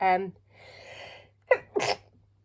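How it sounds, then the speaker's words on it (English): A single person sneezes twice in quick succession, a short burst then a louder second one, following a moment of speech and a soft breathy intake, fairly close and clear. "I sneezed."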